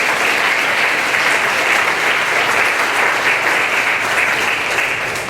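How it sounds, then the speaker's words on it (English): Loud, dense audience applause at a Rotary Club meeting, a thick continuous roar of many hands clapping close by, sustained evenly without speech. "Let's give them a big round of applause."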